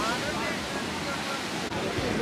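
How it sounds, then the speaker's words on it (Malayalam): Heavy sea waves surge and crash on the shore in a steady, loud roar with wind rumble, filling the whole stretch with broadband wash. "ഇന്ന് എന്താണാവോ കടലിങ്ങനെ ഭയങ്കരമായിട്ട് ഇങ്ങനെ തിരമാലയൊക്കെ വരണുണ്ട്"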